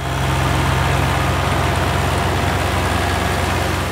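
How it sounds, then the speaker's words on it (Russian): A tractor works in a park, grinding down hogweed, its heavy engine throbbing loud and steady with a low rumble and constant mechanical noise, and no voices. "В Полежаевском парке трактор бороздит участки, перемалывая борщевик"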